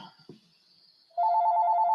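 A phone ringing with an incoming call back: after a short quiet pause a loud, close electronic ringtone starts and trills steadily to the end.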